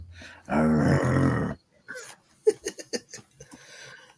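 People imitate dog barks in DMX style: a long growling vocal bark first, then a string of short, punchy barking shouts in quick succession, close to the microphone.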